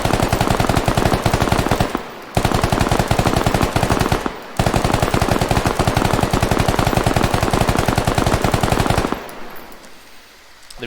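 Automatic rifle in the video game Squad emptying a full magazine in long, loud, rapid bursts, broken by two brief pauses, before falling away into quiet at the end.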